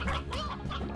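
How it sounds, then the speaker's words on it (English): Elder rooster in the video game Slime Rancher, a short burst of gargling, clucking fowl calls, close and fairly loud over steady in-game background sound. "it's an elder rooster."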